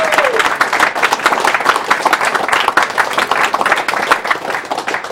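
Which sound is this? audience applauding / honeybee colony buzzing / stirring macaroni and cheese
audience applauding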